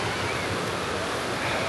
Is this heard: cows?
no